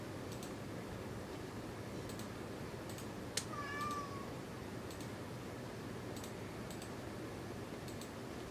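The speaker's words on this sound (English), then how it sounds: "What's wrong with the cat?" A pet cat gives a single short meow in a room with a gaming PC, faint against a steady fan hiss, with a few soft ticking clicks scattered around it.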